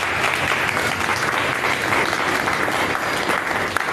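A church congregation applauding together, a loud, dense and steady wash of clapping that continues without a break throughout.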